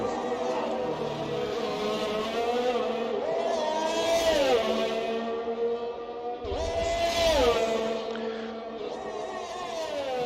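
On-board engine of a Formula 1 car in a racing video game lapping Monaco, a loud whining tone that climbs and drops with gear changes, sweeping down sharply twice under braking.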